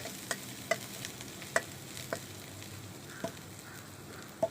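Garlic stir-frying in a pan, a soft steady sizzle marked by a few sparse sharp clicks of a utensil against the pan, fairly quiet with no talking.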